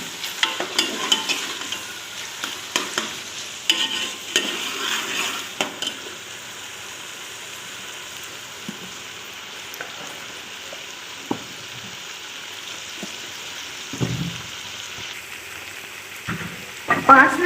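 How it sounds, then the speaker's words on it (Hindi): Green chillies, three or four of them, fry in a pan while being stirred, giving a soft, steady sizzle with occasional scraping strokes of the spoon over roughly five minutes of cooking, close and moderately quiet. "इसे हमने अच्छी तरह भून लेना है, तकरीबन 5 मिनट इसे हमने भूनना है।"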